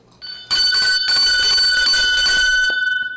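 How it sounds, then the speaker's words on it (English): A hand bell rings loudly and close, a sustained rapid shaking clang with bright, lingering metallic tones that carry through to the end. "Let me ring the bell."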